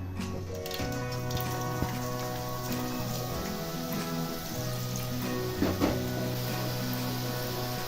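Boondi batter drops frying in hot oil on a high gas flame, a steady close sizzle and crackle like light rain that runs the whole time under a sustained tonal hum.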